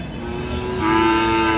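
A cow at the Sajanpur cattle market in Kishoreganj, Bangladesh, moos in a long, steady low call that swells louder partway through, over faint background noise.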